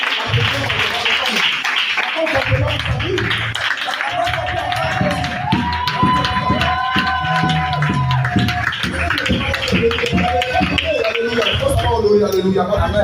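A church congregation cheers and acclaims the Lord, with clapping and a lively crowd roar that runs steadily throughout, mixed with voices and music.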